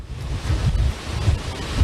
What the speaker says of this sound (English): Steve, I see that wind's picking up, the rain's picking up.